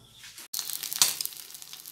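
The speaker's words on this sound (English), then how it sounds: "Frying some eggs" Eggs frying in a pan make a close, steady crackling sizzle with a bright hiss that jumps up after a brief pause and then keeps popping and spitting, with no talk.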